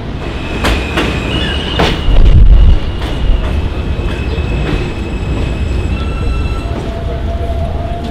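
A train rumbles steadily along the tracks, with rhythmic clicks from the rails and occasional high metallic squeals from the wheels.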